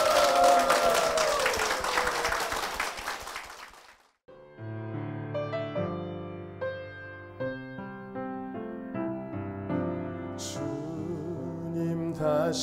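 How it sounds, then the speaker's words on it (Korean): A church congregation claps for two guests, a short burst of applause that stops abruptly and gives way to sustained organ or keyboard music. "두 분께 축복의 박수 부탁드리겠습니다."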